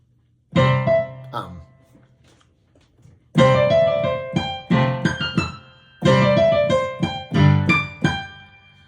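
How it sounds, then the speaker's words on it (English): Short musical phrases on a keyboard-like instrument play in separate bursts with pauses between, one phrase answered by another in a call-and-response or echo pattern, clear and close with no talk. "I'm going to give you an example of call and response versus echo."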